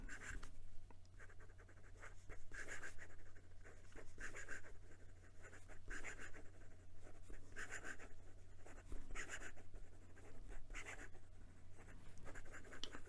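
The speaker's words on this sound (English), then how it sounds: "And some quick writing." A Tibaldi Bononia fountain pen with an ebonite feed writes quickly on paper, giving a steady run of soft, close scratchy strokes with brief rhythmic pauses between words, alone with no talking.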